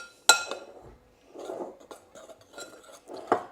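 Spoon stirring dry dough ingredients of flour, salt, caster sugar and bicarb of soda in a bowl, a sharp clink followed by soft scraping swishes and a few more light clinks, close and quiet with no talking.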